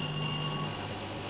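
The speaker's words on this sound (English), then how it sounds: "please let's test the bells" Answer bells tested by quiz contestants at a school science and maths contest, a sustained electronic ringing tone that holds briefly then fades out, fairly clear with no talk.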